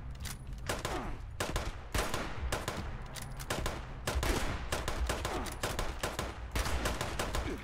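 Sustained machine gun fire in Fallout 76, dense rapid bursts of shots crackling steadily and loudly throughout with no speech.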